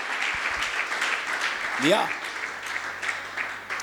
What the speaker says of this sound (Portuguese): Uma linda salva de palmas para você.